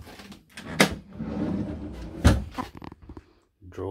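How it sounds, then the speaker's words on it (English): A kitchen drawer in a Jayco Work n Play caravan slides and thunks shut twice, sharp close knocks with rattling contents, near, alongside some quiet talking. "Drawer there."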